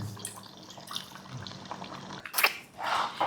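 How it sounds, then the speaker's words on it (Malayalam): First-extract coconut milk is poured into a simmering chicken curry, giving a soft liquid trickle and splashing that grows louder toward the end, close by with no talk. "1-ാം പാൽ നമ്മൾ നേരത്തെ എടുത്ത് മാറ്റി വെച്ചിരുന്ന 1-ാം പാൽ ഇട്ട് ഒഴിക്കുവാണ്."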